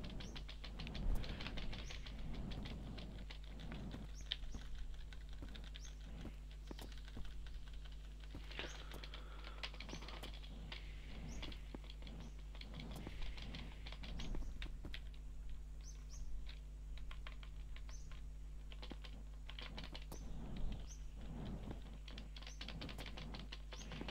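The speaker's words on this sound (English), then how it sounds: "As you can hear, I'm smashing my keyboard button." A single computer keyboard key hammered over and over during a driving game, a rapid uneven stream of sharp plastic clicks close to the mic over a steady low hum.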